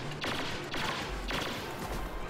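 Blaster fire crackles in the shooter game Star Wars Battlefront, coming in three quick rapid-fire bursts at a moderate distance, fairly quiet with no voices.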